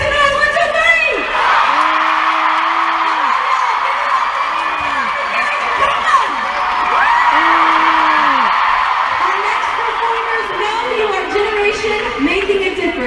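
A crowd at a We Day 2017 event cheers and whoops in a loud, sustained wash of voices, with individual rising whoops standing out repeatedly throughout.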